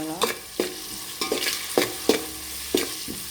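Ginger garlic paste frying with turmeric in a pan for avakaya biryani, a spoon stirring it in a series of sharp scraping taps about every half second over a low, steady sizzle, close and clear with no talking.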